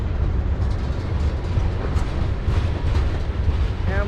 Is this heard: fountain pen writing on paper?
no